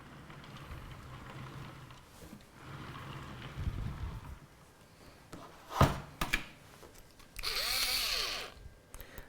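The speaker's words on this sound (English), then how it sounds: "Now this goes into the bracket that holds the radiator, so we're okay to use the electric screwdriver here." An electric screwdriver drives screws into the radiator bracket of a PC build in a Phanteks Enthoo case, giving a few short whirring bursts among handling clicks and knocks, close by.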